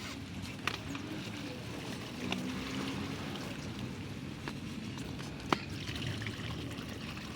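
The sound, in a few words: water draining out after algae removal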